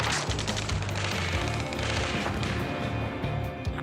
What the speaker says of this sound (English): Return fire! Sierra 2, hold position! We're cut off! Taking fire!